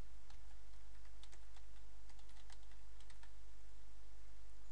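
Steady clicking of keys as text is typed on a computer keyboard, close and fairly quiet over a constant low hum, with irregular bursts of keystrokes.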